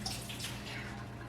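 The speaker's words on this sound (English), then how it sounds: "I'll pour the rest back into another jar and put it back in the fridge." Milk is poured into a jar in a faint, steady liquid trickle and splash, close and quiet.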